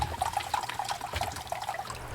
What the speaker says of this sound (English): So now I'm cleaning my track. I'm just using warm water and dish soap.